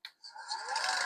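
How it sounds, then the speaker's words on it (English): A handheld electric mixer beats one egg plus a yolk into a third cup of oil at low speed, a steady whirring hum that starts after a brief pause and holds level, close by with no talk. "we're going to use my hand mixer. I'm supposed to beat the egg in oil."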